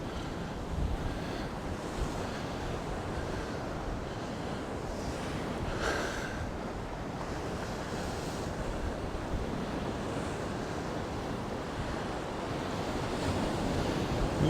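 Sea waves at Costa de la Calma roll in under gusty wind, a constant rough wash of surf with heavy wind buffeting on the microphone and no voices.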